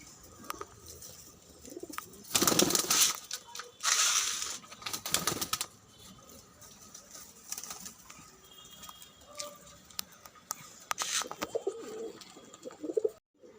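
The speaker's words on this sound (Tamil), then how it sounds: "எல்லாம் புறா ரொம்ப டாப் லைன் எல்லாமே" Pigeons of a Trichy line breed coo softly in a loft, with bursts of fluttering wings and scattered bird calls, fairly close and alone without talk.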